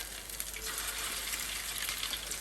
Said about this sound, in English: And sizzling away there.